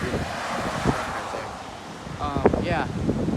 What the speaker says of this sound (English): It is now getting really windy.